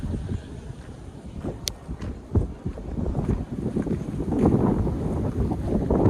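Wind gusts buffet the microphone outdoors on a farm, a low rumbling rush that swells louder toward the end, with no voices.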